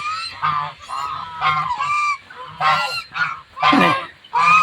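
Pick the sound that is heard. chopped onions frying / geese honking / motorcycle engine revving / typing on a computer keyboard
geese honking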